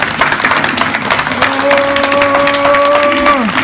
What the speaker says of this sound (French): applaudissez-vous, s'il vous plaît.